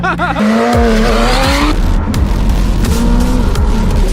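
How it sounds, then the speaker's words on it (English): A McLaren 720S supercar squeals its tyres as the back end slides out, the engine roaring loudly with rising revs throughout, with the screech of rubber sweeping alongside it. "The back end skipped out!"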